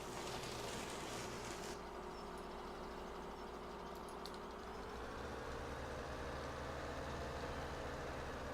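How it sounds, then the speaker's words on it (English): A truck's engine idles steadily in the distance near a lumber sawmill, a faint, continuous low rumble with a slight shift in pitch partway through and no talk. "Must have left the truck running over there"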